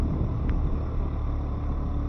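A 110cc petrol motorcycle engine labouring up a steep slope, heard as a loud, steady, unbroken rumble with heavy wind buffeting the microphone.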